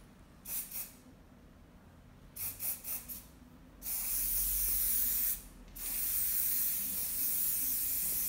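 Wet-look hair spray hisses onto a styled bun: a few short puffs first, then a long, steady spray held for several seconds, briefly broken and resumed, close and loud over a quiet room.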